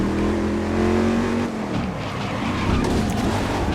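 Race cars in GRID (2019) brake hard, their engines dropping in pitch before tyres squeal and skid, loud and close amid the roar of surrounding cars.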